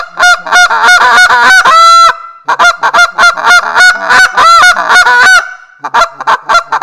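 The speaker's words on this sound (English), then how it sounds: "That's how you tune a short reed goose call." A short reed goose call blown in a run of loud, close honks and clucks, quick choppy notes with a brief pause and then another rapid series.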